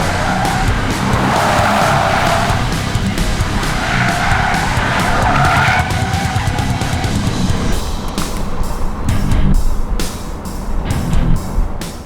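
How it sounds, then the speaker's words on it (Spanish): A Cupra Born electric rear-wheel-drive car slides through a drift, tires skidding and squealing loudly for several seconds, then rough scrubbing bursts as it grips and slides again near the end. "¿Creéis que podremos derrapar con él?"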